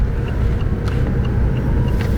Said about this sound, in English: you can hear the electric motors spinning up